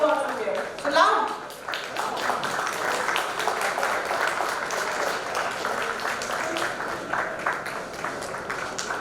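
Students applauding at a convocation ceremony, a dense steady clatter of many hands sustained throughout, with speech mixed in beneath the crowd.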